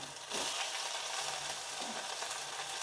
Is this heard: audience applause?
no